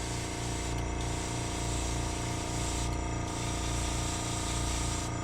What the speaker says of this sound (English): Forgot to turn my air compressor back on.